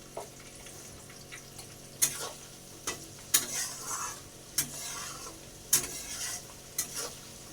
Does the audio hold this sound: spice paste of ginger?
yes